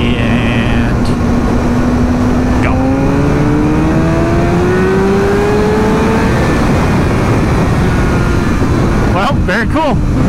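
Motorcycle accelerating hard in third gear from 60 to 100, engine note climbing steadily in pitch over several seconds, loud and close, with heavy wind roar throughout.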